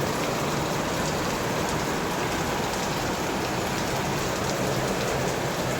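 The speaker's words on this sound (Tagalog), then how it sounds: "Taas ng ulan." Heavy rain pours down in a dense, unbroken hiss, steady and enveloping throughout, with no other sounds standing out.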